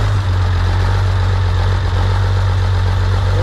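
An International tractor engine idles steadily at close range, a deep low rumble with a constant throb and no break for the full few seconds.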